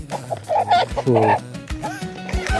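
A chicken clucks and calls nearby in short, uneven bursts, with throaty rising notes. No talking accompanies it.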